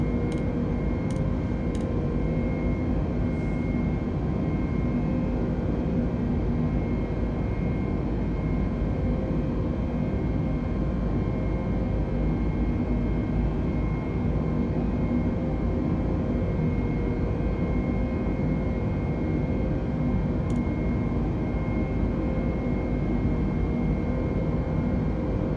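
Airbus A320 jet engines in Microsoft Flight Simulator, a steady loud low rumble and hum as the airliner accelerates during its climb, continuous with a faint tonal whine.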